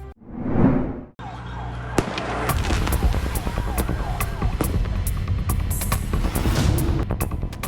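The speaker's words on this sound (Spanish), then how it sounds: "Todos los fuegos pirotécnicos empezaron a ser lanzados por parte de las personas que estaban realizando esta feria." Fireworks set off at an unpermitted street fair: sharp bangs and crackling bursts ring out one after another over a constant loud din of crowd and street noise.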